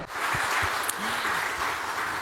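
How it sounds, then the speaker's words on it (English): Audience applause at a Golden Bee Award ceremony, a steady wash of many hands clapping that holds evenly through the whole stretch, with a faint voice and a brief sharp knock partway through. "I think we can all agree with that and share an applause"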